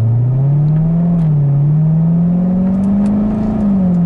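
Supercharged C7 Corvette with an Edelbrock E-Force blower pulling hard through the gears, a loud, close engine drone rising and falling with each shift, with no talk over it.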